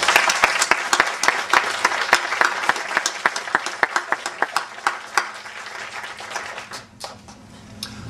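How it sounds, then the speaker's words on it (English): A room full of people applauds veterans at an Independence Day gathering, steady dense clapping with a few sharp, close individual claps standing out, fading toward the end. "would everyone please join me in a round of applause for our veterans"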